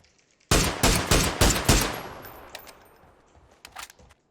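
Automatic gunfire in PUBG: a loud, close burst of about five rapid shots, then an echoing tail and a few scattered distant shots near the end.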